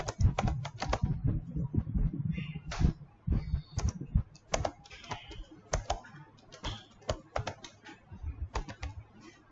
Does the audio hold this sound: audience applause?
no